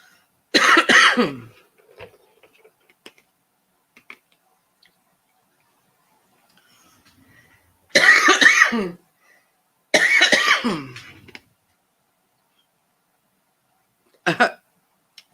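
Four separate coughs, sharp and close, the second and third a couple of seconds apart, with near silence between them.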